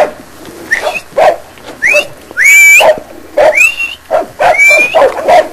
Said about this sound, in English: fun barking at horses